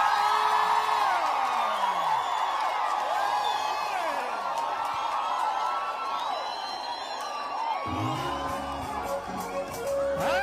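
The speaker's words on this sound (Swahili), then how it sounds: "Wapi shangwe na vigelegele?" A studio audience at a televised show cheers, whistles and ululates in a loud, dense crowd roar with high trilling calls rising above it, and a voice speaks near the end.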